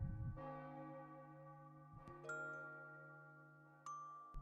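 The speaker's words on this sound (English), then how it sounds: "I can hear the bells." Church bells ring out in a rich, sustained peal, with deep tones humming on as fresh strikes chime in about every couple of seconds, clear and alone with nobody speaking.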